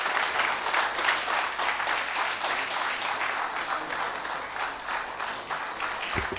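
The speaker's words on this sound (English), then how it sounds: "standing and loudest applause for the Honorable Minister for this keynote address" A conference hall audience at a directors of lands gathering gives a minister sustained applause after a keynote, dense even clapping from many people filling the room for several seconds without a break.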